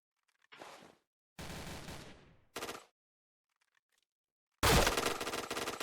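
Automatic gunfire in a first-person shooter video game rattles out in several separate bursts with silent gaps between them, and the last burst is the loudest and longest.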